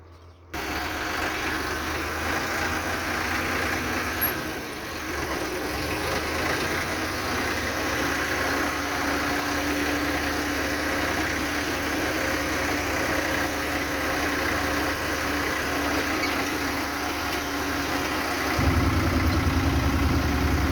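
A tractor engine idles at a sunflower harvest weighing site, a steady mid-low rumble running throughout and deepening near the end, with no talk over it.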